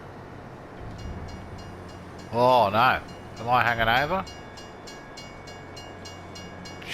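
A train in Farming Simulator 22 rumbles past with a steady mechanical hum and repeated clicking, close and continuous, while someone speaks briefly over it in the middle.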